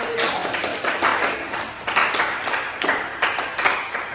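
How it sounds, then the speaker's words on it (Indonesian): An audience at an evening Quran and hadith teaching session claps hands in loose, uneven bursts, with irregular louder claps standing out from softer patter. "Tepuk tangan."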